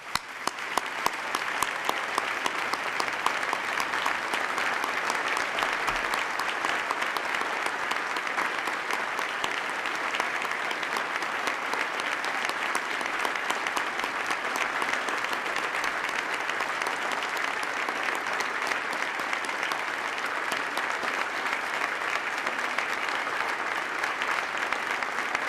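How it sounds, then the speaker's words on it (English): An audience at a New York State of the State address applauds first responders, sustained loud, dense clapping that runs unbroken for over twenty seconds at an even level. "Please join me in a round of applause."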